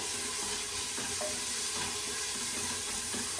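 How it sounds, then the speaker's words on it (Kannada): Onions and green chillies fry in a pan, a steady close sizzle with soft stirring scrapes throughout. "ಈರುಳ್ಳಿ ಚೆನ್ನಾಗಿ ಫ್ರೈ ಆಗಲಿ."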